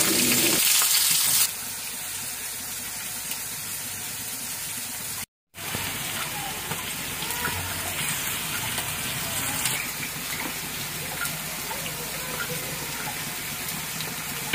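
Garlic and onions go into a pan while cooking egg masala, giving a steady, close, hissing sizzle that continues with a brief break partway through.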